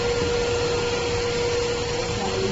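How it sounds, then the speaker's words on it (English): A coin-operated vacuum cleaner at a self-service car wash runs continuously, a loud steady whooshing roar with a constant motor hum, close by and unbroken. "this is the vacuum cleaner"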